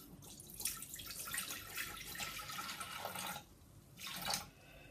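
Water poured into a Vorwerk Thermomix TM5 mixing bowl, 250 grams measured out for herb bread dough, a steady close splashing trickle that briefly pauses and then resumes in a short final burst.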